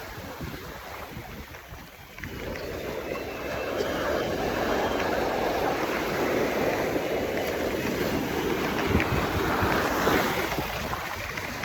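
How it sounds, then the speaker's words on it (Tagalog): Large ocean waves at a Saipan fishing spot roar and wash steadily after a quieter start, with gusts of wind buffeting the microphone throughout. "Lalaki ng alon dun."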